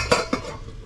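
A lid is set down on a cooking pan of methi paneer on low gas: two quick metallic clanks close together, the second softer, then a faint fading ring.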